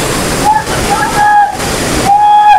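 Kempty Falls waterfall in Mussoorie, Uttarakhand, a constant rushing hiss of falling water close by, with faint whistling tones cutting in briefly.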